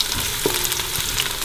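Onions and ginger sizzle and crackle in a hot pan, a steady close frying hiss with small pops and the light scrape of stirring.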